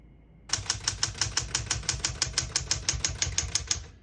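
Keys strike steadily on a 1967 Smith-Corona Super-Sterling portable typewriter, a fast, even run of about twenty crisp, close clacks with no talking.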